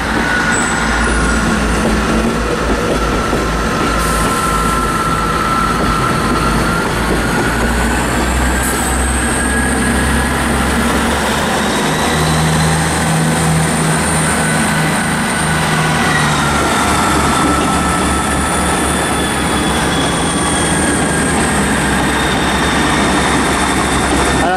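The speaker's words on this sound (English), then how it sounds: "Now departing is the 1445, I think. Yeah, East Midlands train service to Norwich and Derby." An East Midlands passenger train bound for Norwich and Derby pulls out of Manchester Piccadilly, a steady low engine rumble and rolling rail noise held close for the whole stretch, with faint tones drifting above.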